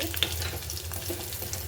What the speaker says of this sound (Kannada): ಇದು ಈರುಳ್ಳಿ ಬೆಳ್ಳುಳ್ಳಿ ಎಲ್ಲ ಫ್ರೈ ಮಾಡ್ಕೊಳ್ಳೋಣ ಎಣ್ಣೆಯಲ್ಲಿ ನೋಡಿ.